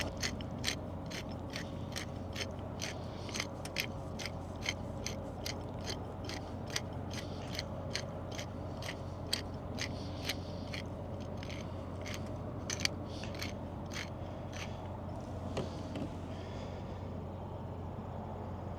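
A hand pepper mill grinds pepper over steaks being prepared for a battery-powered grill outdoors. Rapid, regular crunching clicks repeat steadily for about eighteen seconds, close up, over a constant background hum with wind.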